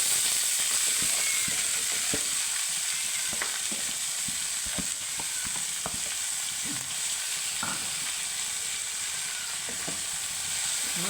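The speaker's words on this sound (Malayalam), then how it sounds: "മുളക് കടുക് ഒക്കെ ഇട്ടു ചീര" Chili, mustard seeds and spinach sizzle and crackle in a hot pan for a home-style spinach curry, a steady hiss broken by sharp pops and stirring clicks, close and continuous with no talk.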